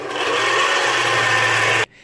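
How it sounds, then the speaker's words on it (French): Turkish pide dough ingredients with baker's yeast and sugar being stirred in a bowl, a steady close scraping and rubbing that continues unbroken, then stops abruptly. "Je vais bien mélanger les ingrédients."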